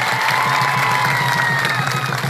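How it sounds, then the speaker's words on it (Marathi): A large crowd at an outdoor political rally in Mohol cheers and claps loudly and continuously, a dense roar of applause with shouts mixed in. "त्यांच्यासाठी जोरदार टाळ्या वाजवा."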